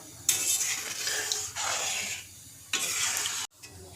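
Milk boils in a pan for kulfi while a spoon stirs it in repeated bursts of scraping and bubbling, separated by brief pauses, close and moderately loud with no talk.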